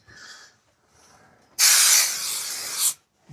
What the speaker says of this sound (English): Give that a good spray.